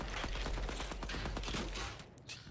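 A heavy-recoil gun fires in a video game, a fast, steady rattle of shots at moderate level that runs for about two seconds before cutting off into quieter noise.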